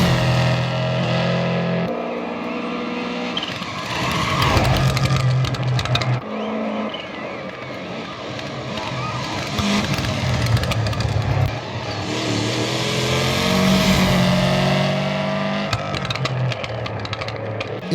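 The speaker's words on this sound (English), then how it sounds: "The characteristic Boxer rumble, caused by unequal length headers, comes through very well in AC Rally." A Subaru boxer engine in the Assetto Corsa Rally video game gives a loud, gravelly rumble from unequal-length headers, revving and easing off in repeated swells with no talk.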